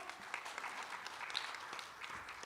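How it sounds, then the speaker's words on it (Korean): Audience applause greets a panel chair at a peace forum economic session, a steady spread of many hands clapping at moderate distance for a couple of seconds with no talking over it. "여러분 큰 박수로 환영해 주십시오."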